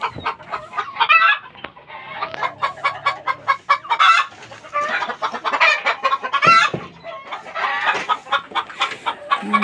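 Hens and chicks kept for breeding cluck and cheep in a busy, overlapping chorus close by, with repeated short calls, a few louder squawks and a rooster-like call mixed in, and no talking.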